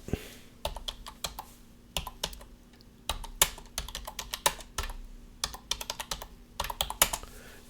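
Computer keyboard keys clack in quick bursts and short pauses, crisp and close, with a faint steady hum beneath and no talking.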